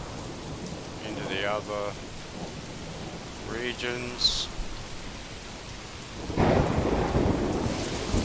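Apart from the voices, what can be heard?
thunder and rain in the video game Manor Lords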